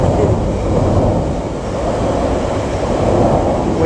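A train crossing over a river bridge in Forest Glen Woods, Chicago, heard as a steady, loud, continuous low rumble and roar that holds level throughout without a break.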